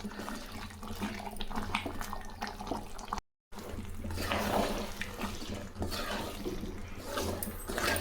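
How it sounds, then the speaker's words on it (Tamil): Water rushes and bubbles steadily at close range while chicken cooks. The low, continuous gurgling runs throughout with one brief silent break partway through. "தண்ணி எப்படி சலசலமாக வருது பாருங்கள்."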